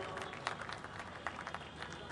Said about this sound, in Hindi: जोरदार तालियां होनी चाहिए दोस्तों।